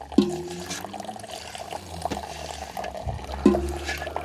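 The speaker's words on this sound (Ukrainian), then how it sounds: "На, полоскаю ведро." A bucket is rinsed with water during home fruit crushing and pressing work, giving a soft continuous splashing and trickling of liquid with a couple of brief squeaky tones.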